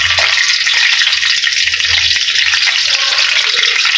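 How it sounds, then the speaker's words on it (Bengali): Green chilies and black cumin frying in hot oil for a village-style Bengali spicy fish curry, giving a loud, continuous, close sizzle with crackling spatter throughout. "লঙ্কা ছিটে ভাজছে আর তেলটা ছিটছে"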